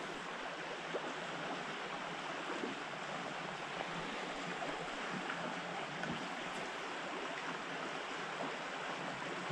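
A small trout stream runs over rocks in a quiet wooded spot, a steady, even broadband rush of flowing water with no pauses or voices, close and constant throughout.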